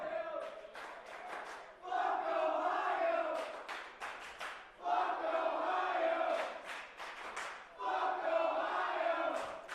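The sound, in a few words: wrestling crowd chanting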